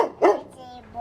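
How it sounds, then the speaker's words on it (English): A dog on a country property gives one short, close bark, with a person speaking around it. "What are you barking at, Tex?"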